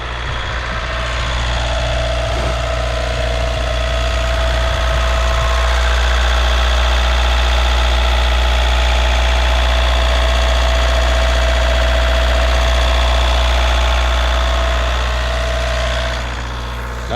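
A VW Caddy engine idles steadily and loudly up close, a constant low rumble with a mechanical hum above it, with no voices.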